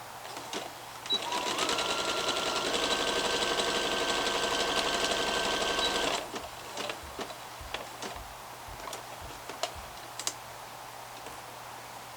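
A sewing machine stitches the short waistband seam of leggings, running in one steady fast whir for about five seconds, then stops, followed by faint clicks and fabric handling.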